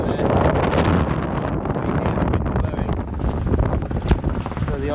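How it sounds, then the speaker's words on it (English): Strong wind buffets a sailboat at sea, roaring steadily across the microphone with rattling and rustling from the rigging mixed into a dense, loud wash of noise. "Still blowing really strong. I'm not sure if you'll be able to see it. You can't see the wind from this, but it's certainly rattling the rigging."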